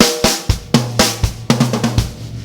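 Drum kit fill on a pocket groove where right-left strokes double into quick 32nd-note bursts, a dense run of close, punchy tom and snare hits with booming low resonance, played alone without talk.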